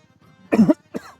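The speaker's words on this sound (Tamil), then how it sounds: "எனக்கு இருமல் வருது இப்போ" A single close cough with two quick bursts, loud against near silence.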